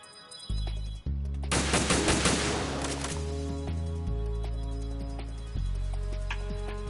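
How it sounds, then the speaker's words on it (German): Rapid bursts of gunfire in Metal Gear Solid 2, a quick volley of shots over a droning electronic background tone, loud and close. "Ich schieße einen Schuss, ist wieder voll."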